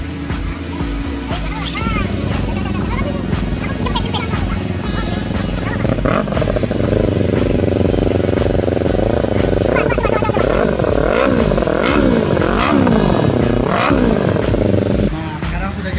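A Kawasaki Ninja 300 fitted with a telolet horn exhaust runs loud and close, its steady engine drone joined by warbling, wavering horn tones that rise and fall repeatedly through the middle stretch before cutting off near the end.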